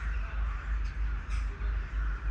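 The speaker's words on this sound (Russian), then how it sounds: "Смотрите, много птиц вообще." Crows caw during a long road trip from Ukraine to Germany. Harsh, rhythmic calls repeat at moderate distance over a low, steady background rumble.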